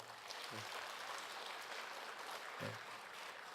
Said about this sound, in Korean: 한번 박수 한번 해주세요.